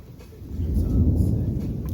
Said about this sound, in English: thunderstorm is rolling in.